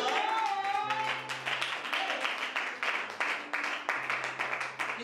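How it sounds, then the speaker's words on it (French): Church congregation clapping for the pastors, a steady rhythmic applause with a voice singing or calling over it. "Nous acclamons pour les pasteurs."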